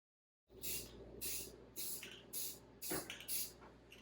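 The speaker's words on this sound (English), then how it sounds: "I'm not going for a flat sheen with this spray paint. I just want to fog it." Spray paint is fogged lightly over an epoxy desktop in about six short, close hissing bursts, each a second or less, separated by brief pauses.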